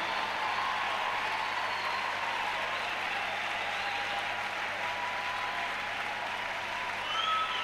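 A church congregation applauds and acclaims during a worship service, a dense, steady wash of clapping and crowd noise that holds evenly throughout, with no distinct voices standing out.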